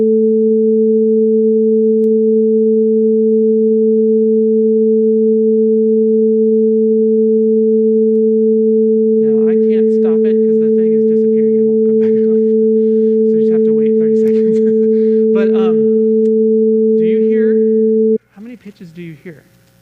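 Two steady pure tones an octave apart sound together continuously for most of the clip, with a person talking over them partway through.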